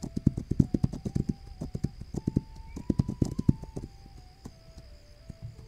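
Horse hooves clip-clop in the video game This Land Is My Land, a fast, rhythmic run of close hoofbeats that slows and thins out toward the end over a faint tonal game background.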